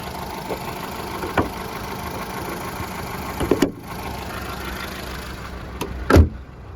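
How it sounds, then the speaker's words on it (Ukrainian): A petrol Volkswagen Golf Plus idles steadily at close range, a smooth continuous engine hum with no surging, broken by a few brief clicks and knocks, likely doors or handling of the car. "Двигун працює чітко, рівненько нічого не скаче."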